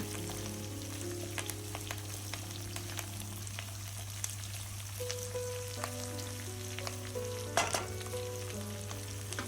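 Roasted gram sautéing in a pan for a pirandai chutney: soft, steady frying crackle with scattered spatula clicks and one louder scrape near the end over a low steady hum, no speech.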